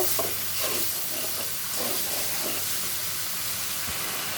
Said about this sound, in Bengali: ইলিশের মাথা মাথাগুলো একটু কষিয়ে নিব